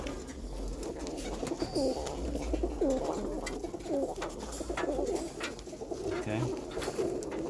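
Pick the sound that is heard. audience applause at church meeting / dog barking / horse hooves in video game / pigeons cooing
pigeons cooing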